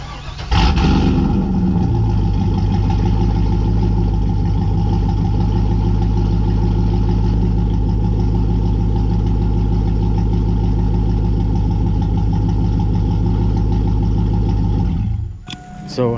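A 2000 Chevrolet Silverado truck engine runs steadily at a loud, close idle with a deep rumbling drone from behind the truck, starting abruptly and cutting off near the end.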